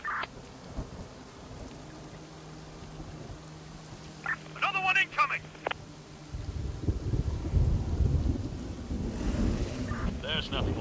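Steady rain hisses in the zombie survival game Infection Free Zone and grows heavier and rumbling in the second half, with a few brief voice-like sounds in the middle.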